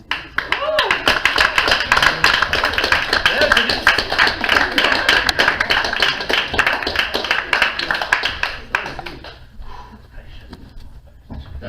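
Audience applause for Alex, a performer reading a poem at a French-language poetry and figures-of-speech evening, a dense steady patter of many hands clapping near and loud for about nine seconds before thinning out, with voices talking over it.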